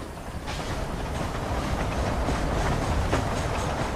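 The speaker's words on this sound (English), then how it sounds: "I don't know why it never occurred to me that you could ride the trains." Steady rolling rumble of a train ridden in Red Dead Redemption, with a continuous rhythmic clatter of wheels on track, fairly loud and close throughout with no voices.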